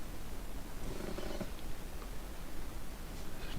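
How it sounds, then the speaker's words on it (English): A domestic cat purring close to the microphone, a steady low rumbling drone that continues throughout with no clear meow heard. "The cat's meowing at me."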